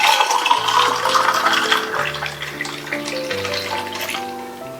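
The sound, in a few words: pouring watermelon juice into tumbler with ice cubes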